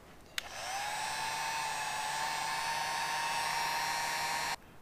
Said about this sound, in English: now it's time to heat it up and shrink it